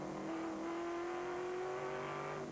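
Stock cars racing at Lime Rock Park in a 2000 NASCAR event, a steady droning engine note holding near constant pitch with a slight rise, loud and continuous with no talk over it.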